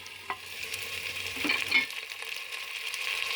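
Mutton frying with onions, garlic and ginger paste in a pan over medium heat: a steady sizzle with scraping stir strokes, close and unobstructed by voices.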